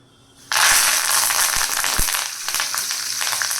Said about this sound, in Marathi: कढीपत्ता पण खूप उडण्याची शक्यता असते म्हणून टाकल्यानंतर आपण पटकन साईडला व्हायचं